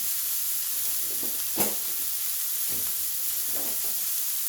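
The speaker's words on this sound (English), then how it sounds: "So now that we have our patty cooking up, we are going to let that patty just brown" A hamburger patty for loco moco browns in a pan, giving a steady faint sizzle with one brief louder crackle partway through.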